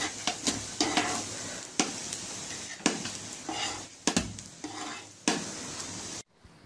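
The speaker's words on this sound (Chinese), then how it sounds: "盖上盖子，再烙两分钟，再给它翻翻面" Radish and egg pancake pan-frying with a sizzle as it is flipped and turned, with repeated scraping and clinking strokes of a utensil against the pan, close and fairly loud, ending abruptly with no talk.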